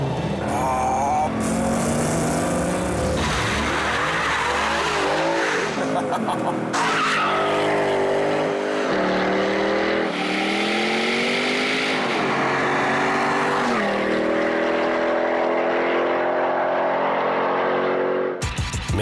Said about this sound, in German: ein V8-Geblubber, das ist einfach eine ganz eigene Welt